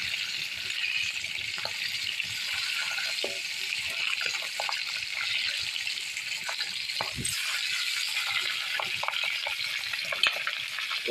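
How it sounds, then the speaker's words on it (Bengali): Pieces of rupchanda (pomfret) fish fry in a generous amount of hot oil, giving a steady sizzling hiss with small crackles and occasional clinks as they are turned, close up with no talking. "উল্টে পাল্টে মাছগুলো সব ভেজে নেব।"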